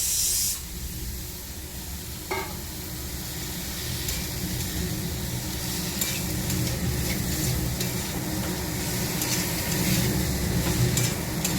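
Vegetable stems and potatoes frying with spices in a pan, a steady close sizzle with a brief clatter near the start and no talk.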